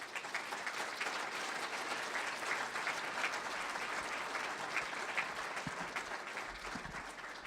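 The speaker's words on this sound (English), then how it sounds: "If we could please give them a great round of applause." Sustained applause from an audience at a corporate leadership event for three CEOs, a dense, even wash of many hands clapping at moderate distance throughout.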